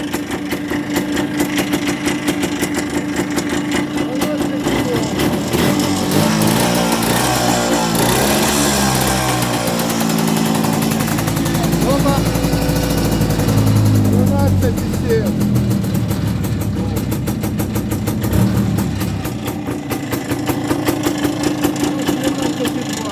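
A Muravey motor scooter engine with a new relay starts and keeps running, a steady buzzing mechanical drone lasting the whole stretch, near and loud, with people talking over it.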